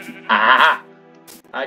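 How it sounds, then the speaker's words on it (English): Sheep bleat in the Minecraft video game, two loud wavering calls close by, the second cut short at the end of the stretch, with a brief gap of quiet game sound between them. "Ah, I got sheep."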